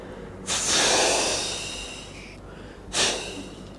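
A voice imitates a trolleybus air brake: a loud breathy hiss bursts out and fades over about two seconds, then after a short pause a second, sharper hiss follows as the brake is released, with no talking.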